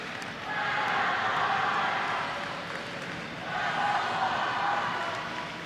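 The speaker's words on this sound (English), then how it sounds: "Always good to hear the Chargers crowd in the audience." Crowd cheering and roaring in a jai-alai arena during a Chargers versus Fireballs match, a loud sustained swell of voices that dips briefly midway and then rises again.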